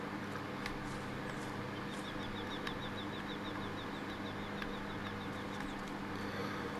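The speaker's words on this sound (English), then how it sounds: "I can hear a bird" Bird chirps repeat steadily and faintly at a fishing spot, a quick regular series of short high calls over a constant hum of outdoor background noise, with an occasional soft knock or tap and nobody talking.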